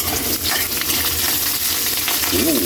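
Garlic and onion sautéing in a hot pan for a Filipino pork dish, a loud, dense crackling sizzle with quick stirring scrapes and a brief metallic ring near the end.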